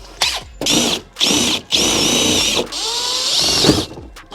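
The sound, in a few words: power drill drilling holes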